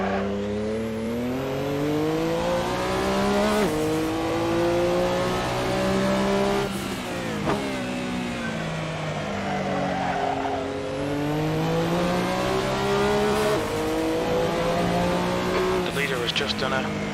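A Porsche 962 C Short Tail race car in Assetto Corsa at Barcelona GP, its engine climbing and dropping through gear changes with rising and falling pitch, loud and continuous with occasional tire squeal.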